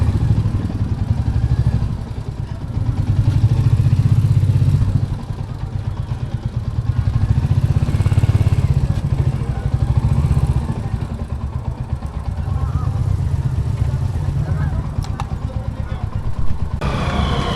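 A big motorcycle being eased into a tight parking spot in Rishikesh, its engine idling with a low, steady rumble that swells and fades as the bike is revved and nudged, with a voice talking over it.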